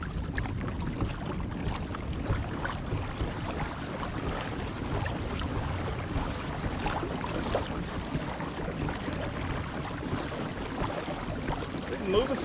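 A 2021 Hobie Mirage Compass kayak pushes through water with a continuous, close rushing and swishing wash, steady throughout with light wind buffeting.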